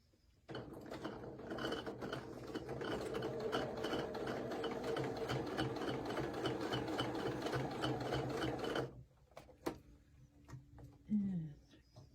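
A sewing machine stitches a Cathedral Windows quilt block in a fast, even run of needle strokes for several seconds. It stops abruptly, followed by a few faint handling clicks and brief quiet talk.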